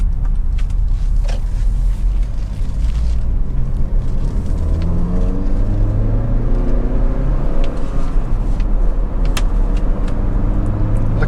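A Honda CR-V 2.0 i-VTEC drives along a road, steady low engine drone and tyre rumble with occasional light knocks, continuous and close throughout.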